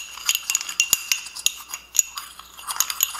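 A spoon stirring onion powder, salt and other seasoning into a bowl of beets, quick irregular clinks and scrapes of metal against the dish, close and continuous with no talking.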